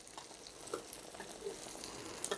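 Egg frying in a pan after being flipped, a faint, steady sizzle with light crackles and pops scattered through it.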